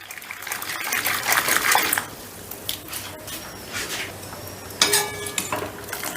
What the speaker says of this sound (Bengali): এবারে আমি ডালটা একটু কাটা দিয়ে দিচ্ছি